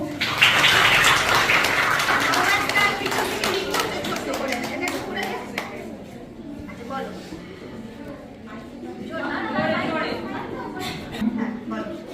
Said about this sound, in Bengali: একটু হাততালি হোক